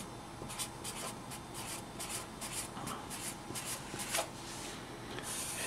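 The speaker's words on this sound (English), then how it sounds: "I'm just going to write those numbers down." Pen on paper as numbers are written down by hand: soft, faint scratching strokes in short irregular bursts over a quiet room.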